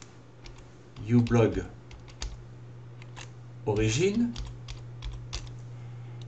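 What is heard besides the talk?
typing on a computer keyboard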